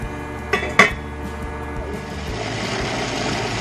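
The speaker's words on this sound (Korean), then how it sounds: "이제 냄비에 팥과 물을 넣고 센 불에서 한번 삶아주도록 할게요." Red beans and water go into a pot on a stove, two sharp metallic clinks followed by a sustained rushing pour of water.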